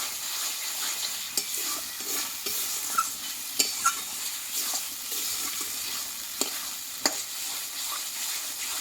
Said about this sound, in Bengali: এই চিকেনের মশলাটা ভালো করে এইভাবে যদি কষিয়ে রান্না করা যায়